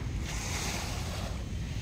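Steady sea surf rolls along the boulevard shore at Aplaya, Bauan, Batangas at night, a continuous broad wash with a little wind, no voices.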